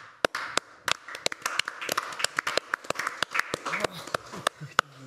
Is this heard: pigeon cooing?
no